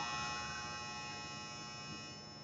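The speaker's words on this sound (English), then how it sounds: "There's my dryer." A household clothes dryer runs indoors with a steady, even electric hum and motor drone that holds without a break, fairly quiet and close, with no talking over it.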